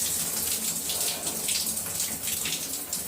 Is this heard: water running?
yes